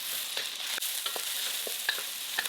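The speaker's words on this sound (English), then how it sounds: "In the same wok over high heat, add 1 tablespoon of oil, add the onion and carrot. Stir fry for about 30 seconds" Onion and carrot stir-fried in oil in a wok over high heat, a loud, bright hiss of frying with quick spatula scrapes and taps scattered throughout, no talking.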